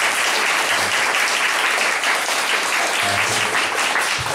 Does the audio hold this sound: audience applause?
yes